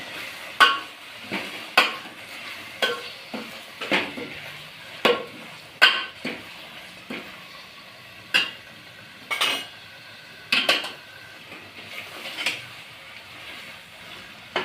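A spoon stirs and scrapes through potato curry in a metal pan for puri bhaji, repeated sharp clanks and scrapes at an uneven rhythm with faint sizzling underneath.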